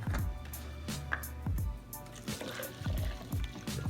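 Water pours into a plastic supplement shaker that already holds scoops of creatine and BCAA powder, giving a steady liquid fill with gurgling and splashing at close range and no voices.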